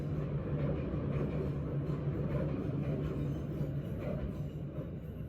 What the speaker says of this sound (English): train was interrupting